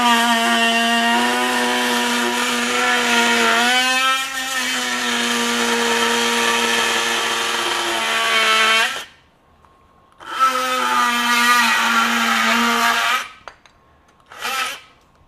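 Close and loud, a Ryobi Gen 2 18V One+ HP oscillating multi tool with a multi-material blade buzzes steadily through soft wood at speed 6, a high, harsh whine that cuts out, restarts for a second pass, then gives a short final burst.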